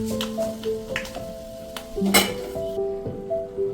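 Fenugreek seeds sizzling in hot oil alongside mustard seeds, a close crackling fry with scattered pops, metal spoon scrapes and clinks against the pan.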